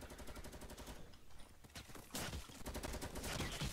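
Rapid gunfire in the video game Fortnite, sustained bursts of shots in quick succession that swell louder partway through, with no voices over it.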